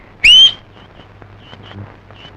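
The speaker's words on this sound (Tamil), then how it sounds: "ஏன்டா நீ வேற விசில் அடிச்சு பயமுறுத்துற?" A single loud, rising whistle blown by a person, lasting about a quarter second, with quiet indoor background after it.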